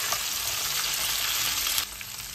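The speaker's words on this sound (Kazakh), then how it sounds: "Енді сәбізімізді, болгар бұрышымызды, етіміздің бәрін жақсылап тұрып қуырып алам." Carrots, bell pepper and meat fry in a pan for a salad, a steady dense sizzle that holds loud and close throughout, easing slightly near the end.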